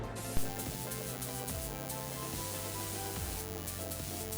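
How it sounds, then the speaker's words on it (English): A spray gun applies black epoxy primer inside a car's engine bay during a turbo K20 swap on an MR2 Spyder, giving a continuous close hiss after a brief trigger click, with a faint mechanical hum beneath. "you can't really smell it when you're spraying this primer"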